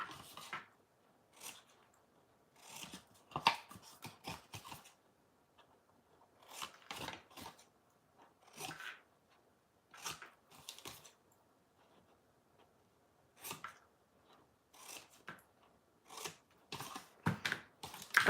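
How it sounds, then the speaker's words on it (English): Scissors trim and angle-cut small paper pieces for a songbird box craft, giving close, crisp snipping in quick clusters of strokes separated by brief quiet gaps. "then we're going to trim these and then angle cut them"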